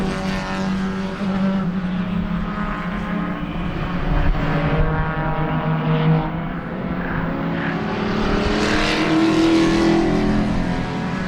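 Race cars lap the track during a two-hour enduro at Sebring, engines droning and shifting pitch continuously in the background as cars pass, steady and moderately distant with no voices.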